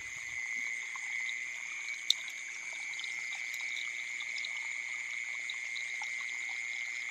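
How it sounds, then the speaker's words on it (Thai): Frogs croak at night in a steady, continuous chorus alongside shrill insects, a dense layered drone at moderate distance with one brief click partway through. "กบ"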